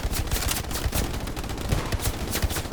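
Gunfire rattles through a sniper shooter video game in quick, repeated bursts of sharp shots with a rapid machine-gun-like rhythm, moderately quiet and continuous, with no talking over it.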